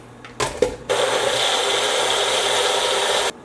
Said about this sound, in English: I put it in the blender.